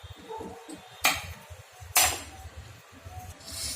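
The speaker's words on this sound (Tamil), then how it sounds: "பிளேட் வச்சு இதை இப்போ திருப்பி எடுத்துக்க போகிறோம்." Two sharp metallic clanks as a plate is set against a kadai to flip a puffed-rice snack, each a bright short strike about a second apart, with faint scraping and kitchen clatter in between.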